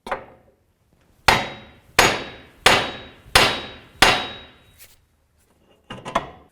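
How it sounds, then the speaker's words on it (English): A hammer strikes a steel steering knuckle on a 2005-2009 Subaru Outback to pop out the ball joint: five sharp, ringing metallic blows at a steady pace, then a pause and a quick double strike, close and loud with no talking. "Now with a hammer, you're going to hit the knuckle part that the ball joint goes up in so we can pop it right out"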